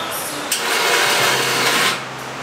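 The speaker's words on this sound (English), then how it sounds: "I'm just drilling, grabbing the heads and tossing them either inside the car or piling them up" Power drill boring out rivets on a convertible figure 8 race car, a close, steady high-pitched whine that runs for about a second and a half before easing off.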